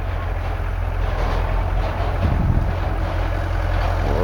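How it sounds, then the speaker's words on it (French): A tractor carrying the village waste container rolls past, a steady low engine drone heard from a moderate distance, continuous and fairly even throughout. "Il y a un tracteur qui passe."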